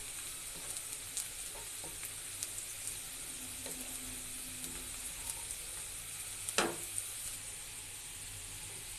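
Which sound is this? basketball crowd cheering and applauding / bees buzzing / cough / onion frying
onion frying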